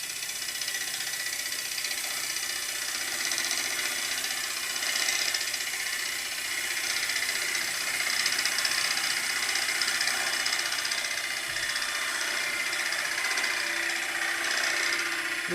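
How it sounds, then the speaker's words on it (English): A tool chatters against a wormy sycamore bowl spinning on a wood lathe, a continuous buzzing rattle over the steady hum of the machine, close and moderately loud, with no speech. "Little bit of tool chatter."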